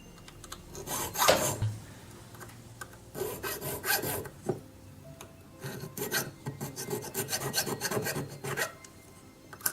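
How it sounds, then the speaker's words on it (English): Rasping strokes of a three-square hand file cutting into a jewellery ring, in irregular bursts of scraping separated by short pauses, close and fairly loud. "I'll go over those cuts with my 3 square file."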